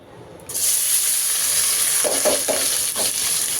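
Pumpkin, chopped potato and onion drop into hot oil and burst into a loud, sudden sizzle that holds steady, with a few stirring scrapes near the end.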